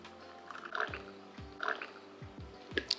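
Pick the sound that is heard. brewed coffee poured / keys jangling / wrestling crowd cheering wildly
brewed coffee poured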